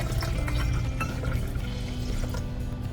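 Water pours steadily into a container holding blueberries and honey, a continuous close, fairly loud rushing gurgle with no voices over it.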